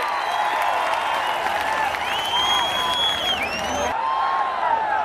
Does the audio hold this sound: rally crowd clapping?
yes